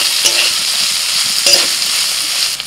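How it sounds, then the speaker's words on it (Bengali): Chopped tomato hits a pan of frying ginger-garlic paste and onion, producing a loud, close, continuous hiss of sizzling oil with a couple of brief stirring knocks. "আদা রসুন ভেজে নিয়ে দিচ্ছি টমেটো কুচি"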